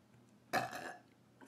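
A single loud burp from a person who has just swallowed ramen noodles without chewing, short and close against a quiet room.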